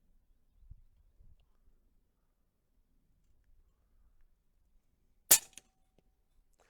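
A single sharp crack from an AirMaks Arms Katran .25 airgun firing a heavy 34-grain pellet on an outdoor expo range, stands alone after several seconds of near silence, with faint low rumbles before it.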